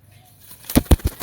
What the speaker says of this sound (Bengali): বাপরে বাপ, পায়রাটা প্রচুর ছটপটে, হাতে রাখা যাচ্ছে না।